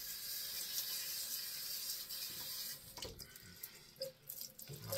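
Tap water running into a sink to rinse off shaving soap, a steady close hiss for over two seconds, then broken splashing and dripping as hands move through the stream.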